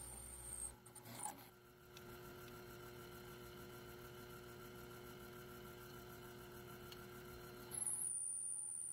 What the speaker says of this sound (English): Take some more cuts off of this with the carbide here.